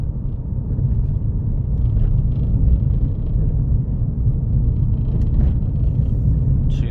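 A Seat Leon on the move over a bumpy road, with steady low road rumble and engine drone throughout and a few faint knocks from the uneven surface, no one talking.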